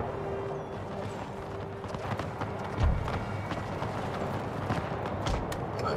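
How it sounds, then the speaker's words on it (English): Cavalry horses charging in Empire 2 Total War: a rapid, continuous drumming of many hooves at middle distance, with scattered musket shots, thuds and a low hum beneath. "Horses charge."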